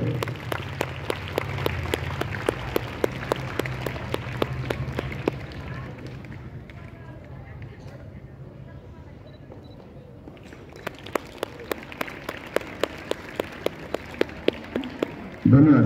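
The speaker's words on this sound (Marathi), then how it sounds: "सर्व विद्यार्थ्यांनी जोरदार टाळ्या वाजवायच्या आहेत." Students clap together in a steady, rhythmic beat at a school sports week opening ceremony. The loud clapping thins out midway, then returns strongly, with voices underneath throughout.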